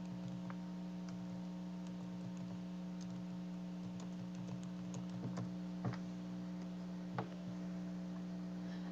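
Someone types a search on a computer keyboard, giving soft, irregular key clicks over a steady electrical hum in a quiet room.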